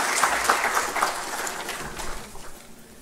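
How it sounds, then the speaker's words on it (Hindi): An audience applauds to welcome a speaker at an International Women's Day event, a brief burst of many hands clapping, fairly close and moderately loud, thinning out toward the end. "तालियों के साथ"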